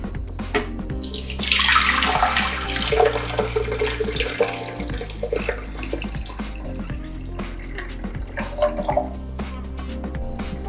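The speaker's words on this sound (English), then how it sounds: "we will strain the tea and then we'll mix our juices here with the tea" Melon mint tea poured and strained through a strainer, with a steady splash of liquid that swells early and then settles into a trickling, dripping pour with small clinks, close by and with no talking.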